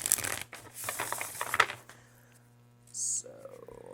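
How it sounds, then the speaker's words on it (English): A deck of tarot cards is shuffled by hand in rapid riffling bursts for about two seconds, close up, followed by quiet background hum and a short tone. "I'm just going to shuffle. This deck shuffles beautifully."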